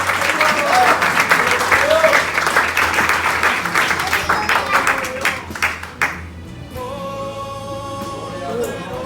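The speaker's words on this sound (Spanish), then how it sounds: "Fuerte el aplauso al Señor." A church congregation bursts into strong applause that thins into scattered individual claps after about six seconds, leaving a quieter room with a few lingering hand claps.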